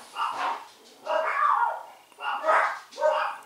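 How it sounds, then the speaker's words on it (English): Excited dog barking in repeated bursts of yelps and yips at close range, four energetic bouts separated by short gaps, moderately loud with no talking. "see, it's so exciting, my dog went crazy."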